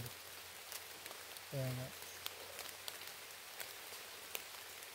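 Steady rain falls in a mountain setting, a continuous soft hiss with scattered louder drops throughout, while a brief voice speaks midway.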